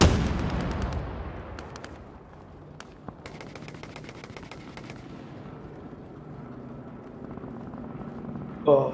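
Heavy machine gun fire in a snowy video game battle: a dense opening burst followed by scattered single shots and short bursts, with a low rumbling background throughout and a sharp blast at the very end.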